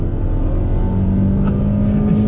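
A 2021 Toyota Corolla Apex with a six-speed manual accelerates on throttle, its engine note rising steadily and loud and close throughout, with a faint tire or road hiss layered over the drone.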